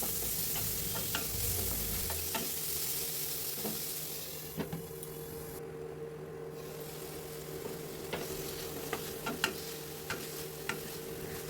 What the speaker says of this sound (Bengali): দিয়ে এটাকে আবার ভালোভাবে মশলাটাকে কষিয়ে নিলাম